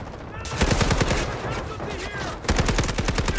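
Rapid automatic SMG-45 gunfire in the shooter game Delta Force, loud and close, with dense bursts of shots running nearly the whole time and a brief pause before another burst.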